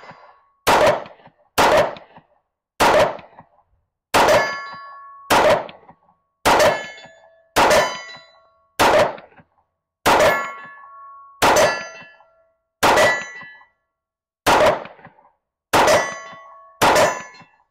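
Fourteen pistol shots from a Staccato C2 each ring a steel target 50 meters downrange, sharp cracks with a metallic clang, spaced at an uneven steady pace with brief ringing decays between.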